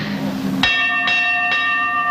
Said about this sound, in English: Well, that sounds like a fire alarm.